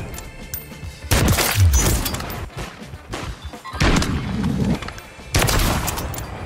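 Sharp sniper shots crack in a first-person shooter, three or four heavy reports spaced a second or two apart, loud and close with ringing tails.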